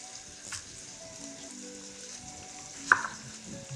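Pork browns in an Instant Pot for pork adobo, a faint, steady crackling sizzle with a couple of soft clicks and a brief louder pop near the end, no voices.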